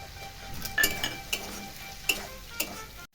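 Onion dropped into a pan with already-fried prawns, a steady sizzle under scraping stirs and a few sharp clinks of a utensil against the pan, close by, with no talking.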